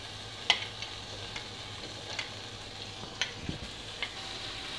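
Chopped pieces of cooked mutton frying in garam masala in a pan, a steady soft sizzle with a few sharp clinks of a spoon stirring at intervals, close and fairly quiet.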